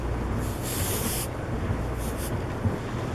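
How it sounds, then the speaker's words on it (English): A can of compressed air sprays in two short hissing bursts, the first longer, blowing dust off craft projects close up in a quiet room. "So I got this can of air to try to, blow my projects off"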